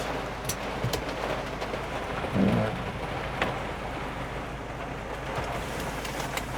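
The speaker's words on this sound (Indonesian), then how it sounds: "Hujannya lebat sekali nih guys, ya Allah" Heavy rain falls in a steady dense hiss during an evening drive through Surabaya, with a low vehicle rumble underneath and a brief louder swell partway through.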